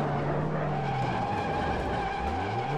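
Puma P052 race car in the Automobilista racing game, its tires squealing in a sustained skid over a steady engine drone, loud and close, with no talk.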